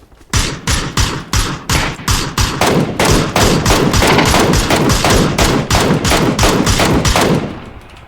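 Rapid bursts of gunfire from a battle royale video game, a loud run of sharp repeated shots that settles into sustained automatic fire for several seconds before stopping, with no talk over it.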